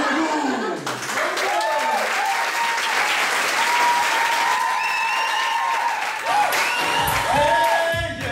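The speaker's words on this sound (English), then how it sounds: "Great round of applause." An audience at a gospel music event in Moncton, New Brunswick claps and cheers steadily to welcome a performer. Dense, sustained applause fills the room with a few whoops, while a voice speaks over it.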